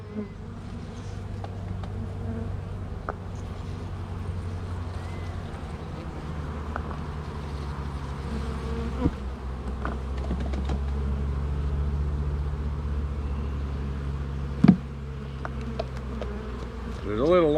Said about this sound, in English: Back down in there, bees.